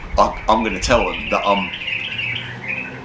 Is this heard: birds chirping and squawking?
yes